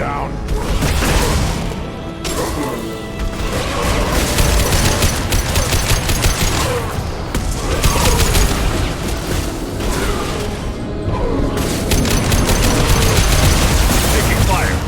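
Heavy gunfire in a Mass Effect 2 firefight: dense, loud bursts of automatic fire and booming shots roll on almost without pause, with voices calling out over the battle.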